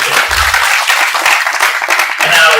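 Loud, dense clapping from a crowd at a Tamil film-event speech, continuous for a few seconds with a faint voice underneath.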